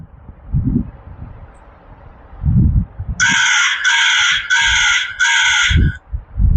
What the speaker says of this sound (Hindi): कौआ कैसे बोलता है, ध्यान से सुनिएगा।